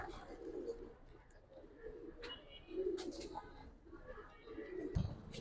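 Giribaz pigeons cooing inside a loft, soft repeated low coos in short bursts with a few faint chirps and shuffles, close but quiet against a hushed background.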